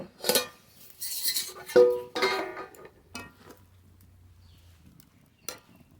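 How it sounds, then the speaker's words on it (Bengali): Metallic clatter and clinks of cookware, a lid scraping and knocking as it is lifted off a pot of cooked milk, followed by quiet with a few light taps. "দুধ রান্না হয়ে গেছে ঢাকনা তুলে নেব"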